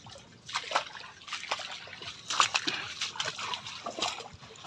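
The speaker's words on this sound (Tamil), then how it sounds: "வாய்க்கால் ஃபுல்லாக தண்ணி ஆகிடும்" Water runs and sloshes through a village irrigation channel, close and moderately loud, with irregular splashing and trickling surges and no talk.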